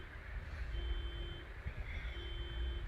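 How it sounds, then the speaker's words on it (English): A car alarm sounds in the distance, repeating steady high electronic tones over a low outdoor rumble. "Somebody's car alarm is going off."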